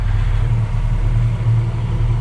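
A 2024 BMW R12 motorcycle on its stock exhaust idles with a low, steady, throbbing pulse, close and even, with slight swells in loudness.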